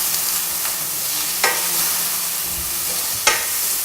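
Onions fry in a pan with Ras El Hanout, a Moroccan spice blend, stirred in. A close, continuous sizzle carries two sharp scrapes of the spoon and no talking.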